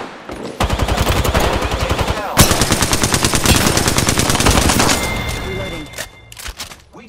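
Rapid automatic gunfire rattles in the Apex Legends video game, loud sustained bursts of close shots continuing for several seconds before trailing off into scattered sounds.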